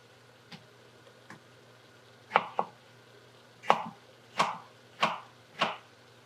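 A knife cuts through a tomato onto a board: two faint taps, then a run of about six crisp, evenly spaced chops that grow louder, heard close with no talking.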